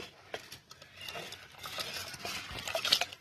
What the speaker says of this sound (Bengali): চালটা দিয়ে দিচ্ছি